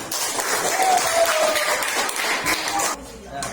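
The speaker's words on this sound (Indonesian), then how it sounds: "silakan beri tepuk tangan." Primary-school classroom applause after a group presentation on halal and haram food: a dense, close burst of children's clapping with voices mixed in, cutting off abruptly near the end.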